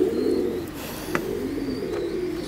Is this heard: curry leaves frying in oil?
no